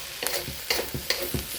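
Lo mein noodles with roast pork and bean sprouts tossed in oil in a hot pan; close, rhythmic sizzling swooshes, about five quick tosses in under two seconds over a steady frying hiss.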